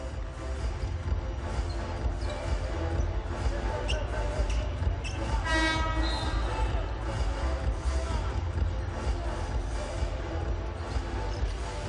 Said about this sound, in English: There is a whistle there.